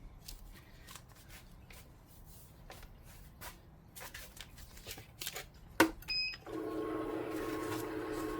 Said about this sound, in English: The money machine's on.